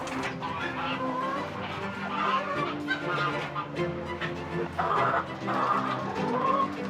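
A flock of chickens clucking and murmuring together in a steady, busy chorus, with occasional louder calls rising over the background.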